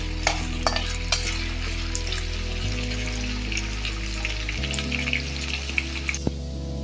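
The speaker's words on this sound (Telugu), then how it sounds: "ఇలా వేపుదాం. వంకాయ అయిపోయింది, బంగాళదుంప కూడా వేపి" Potatoes frying in oil in a pan for an alu brinjal curry, giving a loud, continuous sizzle and crackle close up, with a steady low hum underneath.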